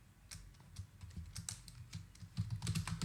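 Close-up typing on a computer keyboard while writing Python code, a quick irregular run of key clicks and taps with a few brief pauses, clear and alone.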